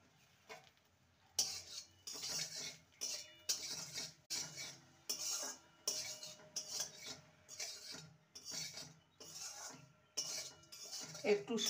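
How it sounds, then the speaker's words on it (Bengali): Bread pieces frying in ghee over a low flame are stirred around a pan, with a steady run of repeated metallic scrapes and clinks at an even rhythm, close and moderately loud, and no voices. "পাউরুটিগুলোকে মিনিট 5-6 ভালো করে নেড়ে নিয়েছি"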